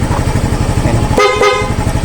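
Two short honks from an aftermarket motorcycle horn on a Yamaha Mio Gear sound close and loud in quick succession over the steady putter of an idling engine.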